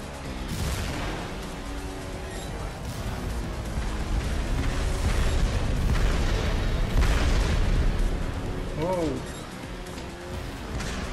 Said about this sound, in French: Les explosions, c'est stylé.